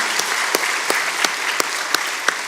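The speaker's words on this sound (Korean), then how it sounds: "한번 우리 감사의 박수로 하나님께 영광 돌리겠습니다" A church congregation applauds together in a steady, even burst of clapping that fills the room, with a few sharper claps standing out, heard alone without speech.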